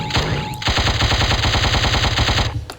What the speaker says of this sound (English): Let me shoot a little bit.